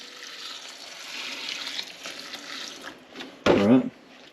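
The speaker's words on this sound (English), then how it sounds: "just pour water in it" Water is poured over stored wheat in a container, a brief close splashing gush standing out after several seconds of soft background hiss and faint voices.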